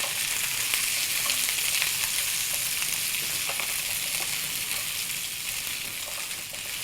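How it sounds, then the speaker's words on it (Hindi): Cut okra frying in a pan, a steady, close crackling sizzle with light stirring and splatter, continuous and fairly loud throughout, with no talking. "ये डाल के आपने इसको फ्राई करना है भिंडियों को।"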